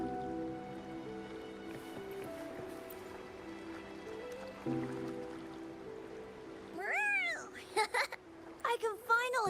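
A cat meows several times in quick succession near the end, short bright mews in the video game Wuthering Waves, following a stretch of soft game music and ambience with a voice speaking underneath.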